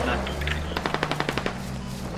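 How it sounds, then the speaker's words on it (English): A rapid burst of roughly ten machine-gun shots rings out in the military shooter Squad, evenly spaced and moderately distant, over a steady low rumble of battlefield ambience. "We're under fire, we are pinned down."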